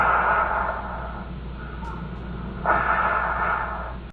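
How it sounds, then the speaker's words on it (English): Close, heavy breathing with low rumbling noise, slow drawn-out breaths rising and falling, one stronger exhale near the end, no speech. "What you are hearing is the heavy breathing of a man who took the lives of 14 people."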